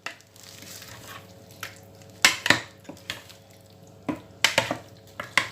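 Chicken wings tossed in soy sauce and honey in a pan, with soft wet squishes and several sharp clinks of a utensil against the pan, scattered and fairly quiet.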